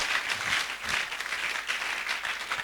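A church congregation claps steadily as a dense, even wash of applause that stays close and continuous throughout.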